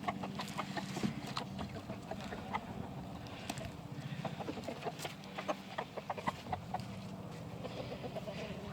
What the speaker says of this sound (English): we got the straight run chickens, and as you can see, we've got these extra roosters